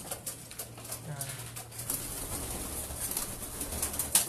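Young racing pigeons cooing in a loft, soft low coos rising over a busy background of rustling and shuffling, with someone talking at times during the cooing.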